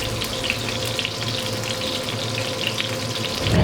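Water poured into a hot pan of olive oil, with garlic scattered and seasoning added, gives a steady sizzling hiss that swells louder at the very end, with no voices.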